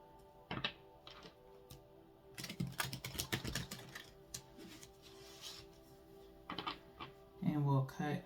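A quick series of crisp, papery flicks and taps as tarot cards are shuffled close by, coming in short bursts with pauses between them.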